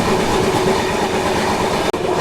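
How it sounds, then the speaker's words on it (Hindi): The Vasco da Gama Patna Express thunders past at close range, a loud continuous roar of wheels and coaches with clattering rhythm and a sudden brief drop near the end. "ये थी आपकी Vasco the gamma Patna express."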